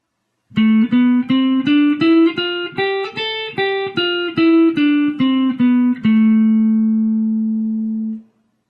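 A guitar plays the A Aeolian scale one note at a time, climbing evenly then descending, ending on a long, ringing low note that fades out.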